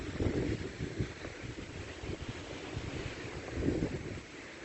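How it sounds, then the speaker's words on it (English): Strong wind gusts buffet the microphone on a mountain hike up Ajusco volcano near Mexico City, a continuous roaring rumble that swells in heavier bursts at the start and near the end. "We've had to stop a couple of times because it was too windy to walk."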